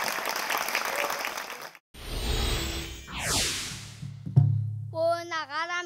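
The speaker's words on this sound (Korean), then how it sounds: "성원의 박수 한 번 더 부탁드립니다." An audience claps for a pansori performance at a Korean traditional music concert, a brief burst of applause that cuts off and gives way to whooshing transition effects and electronic tones.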